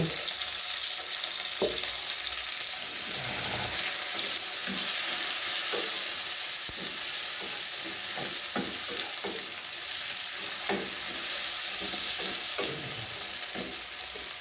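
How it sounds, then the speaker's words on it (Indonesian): Shallots, garlic and tomato for sambal tauco fry in a wok with a continuous close sizzle, punctuated by repeated scraping and stirring strokes of a spatula throughout, with no talk. "kalau kira-kira sudah agak menguning bumbu bawang merah bawang putihnya, baru dimasukkan tomat"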